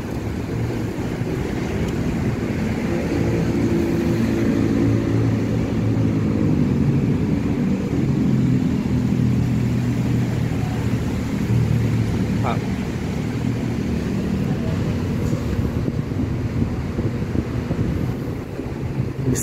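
Inside an electric intercity bus running a long-distance Indonesian route, a steady low road rumble and wind noise fill the cabin while people talk.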